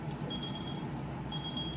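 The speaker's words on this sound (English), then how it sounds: "That's my pasta timer." Kitchen pasta timer alarm while cooking rigatoni, ringing with a steady high electronic tone through a faint background hum, with no voices.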